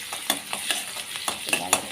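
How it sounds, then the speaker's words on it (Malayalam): Food being sautéed in a pan while it is stirred, giving a steady close sizzle broken by repeated scraping strokes about every quarter second across the short stretch. "ഒന്ന് വഴറ്റിയിട്ട്"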